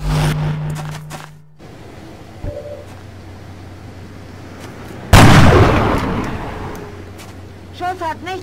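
A gunshot followed by a loud explosion in the video game XCOM Enemy Within: a sharp crack, then a heavy boom that decays over several seconds, with brief game voice sounds near the end.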